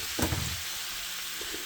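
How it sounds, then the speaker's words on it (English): Garlic sizzles in a pan with a dense, steady hiss, opening with a brief stirring scrape and clatter before settling into even frying. "I love the smell of sauteing garlic."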